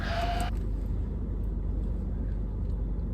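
A sheep bleat sound effect sounds loud and close for about half a second at the start, then cuts off, leaving a low steady rumble with no talk.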